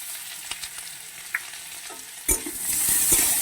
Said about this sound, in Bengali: এটাকেও আমি হাফ মিনিটের মতন কষিয়ে নেব